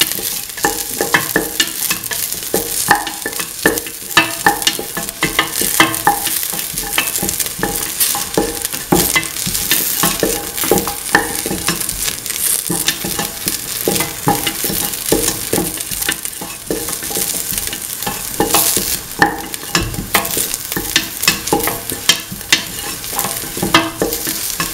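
Kidney bean and potato stew mix sizzles and fries in a pan while being sauteed and stirred, a loud continuous crackle broken by frequent scraping strokes of the spoon, with no talking.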